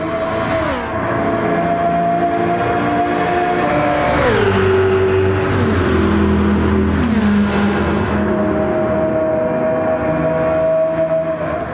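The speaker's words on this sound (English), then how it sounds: "So awesome sounding engine on this car." Engine-swapped BMW M3 racing in Gran Turismo 7, a loud sustained engine tone climbing and dropping through gear shifts, close and continuous with no talk.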